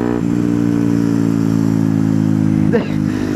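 A Yamaha WRX 125 motorcycle with an Arrow exhaust runs at full throttle, a loud, steady buzzing engine drone held close throughout with a brief clattering wobble near the end, while a rider talks over it.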